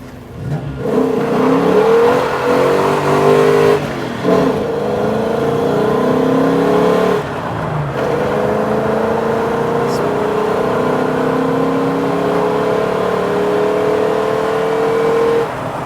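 A car's engine revs and accelerates steadily on an open road near a New Zealand skid workshop, a loud, continuous motor drone rising and falling in pitch with brief dips, while people chat over it inside the cabin.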